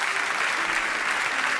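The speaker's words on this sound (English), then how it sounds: "a round of applause for the Danish captain with us tonight, Mr. Simon Kjær." Brief burst of crowd applause for the Danish football captain, a dense, even wash of clapping throughout the short stretch with no voices.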